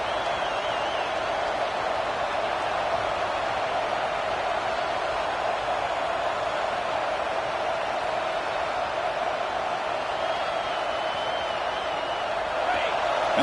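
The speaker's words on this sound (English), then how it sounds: "crowd coming to life here trying to help this defense down in the red zone" Stadium crowd at a college football game, a steady broad roar of thousands of fans that holds at an even, loud level throughout, swelling slightly near the end as the defense plays in the red zone.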